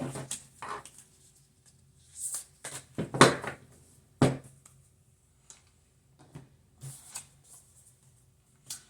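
A deck of cards being shuffled, heard as soft, scattered riffles and flicks in short bursts with quiet gaps between them, faint and close in a quiet room.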